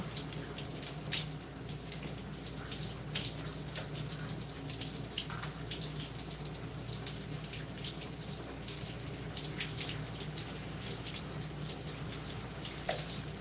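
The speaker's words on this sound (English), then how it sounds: "we're gonna rinse first with these clips holding the hair" Water runs steadily from a tap while hair is rinsed, clipped up in sections, a continuous soft splashing stream with no pauses.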